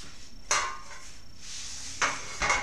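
A pie pan is lifted and handled in a kitchen while a pecan-date crust is made, giving a few light clatters and scrapes, one near 0.5 seconds and a pair toward the end, close and fairly soft.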